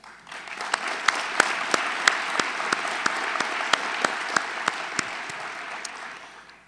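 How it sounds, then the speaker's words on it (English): Breakfast lecture audience applauding a tenth-anniversary milestone: full room clapping that swells in, holds steady with a few crisp nearby claps standing out in a regular beat, then tapers off near the end, no speech over it. "Let's applaud that"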